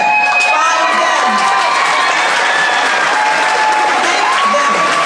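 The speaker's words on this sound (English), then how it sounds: "give them the biggest clap you can give them" Middle school graduates at a 2024 graduation ceremony clap and cheer for their families in the audience, a dense, steady wash of applause with scattered shouts and whoops from a large crowd of young voices.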